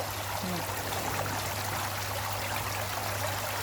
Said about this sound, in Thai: มีน้ำตกด้วยค่ะ